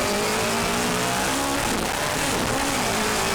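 A Mini hillclimb race car pulls away from the start line at Gurston Down, its engine revving loud and close, with a brief stumble midway through a missed gear change before the revs climb again.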